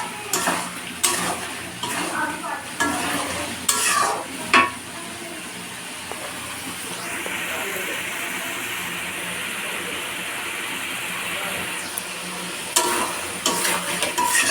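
Meat sizzles steadily in a hot pan while being stirred and fried for a Bengali meat curry, with sharp scraping clanks of a utensil against the pan near the start and again at the end.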